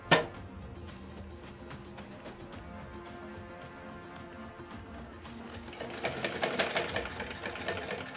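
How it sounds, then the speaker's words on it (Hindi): A home sewing machine runs steadily, stitching through cloth with a continuous mechanical whir and rapid needle chatter that grows louder and busier toward the end, with no talk over it. "मैं इस कपड़े पे सिलाई कर लेता हूँ।"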